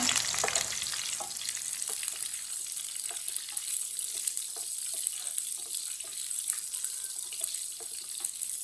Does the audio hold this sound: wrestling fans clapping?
no